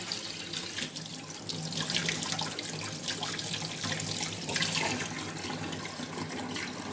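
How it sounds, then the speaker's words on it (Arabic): Tap water running into a sink while a chicken is being cleaned, a steady close hiss and splash that continues throughout with small shifts as hands move under the stream. "خلي ايدك تحت المية على طول وانت بتنضفي"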